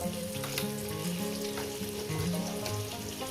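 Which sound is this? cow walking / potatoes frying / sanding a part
potatoes frying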